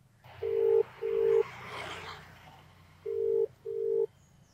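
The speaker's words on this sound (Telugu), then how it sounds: "అరైవ్డ్ పైన స్వైప్ చేసి కస్టమర్కి మనం కాల్ చేద్దాం" A phone ringback tone plays as a call goes out to a customer: two long beeps, a pause with faint background rumble, then two more beeps of the same steady pitch.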